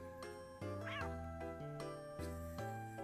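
A cat meows repeatedly in short, sassy calls, close and fairly loud over soft background music.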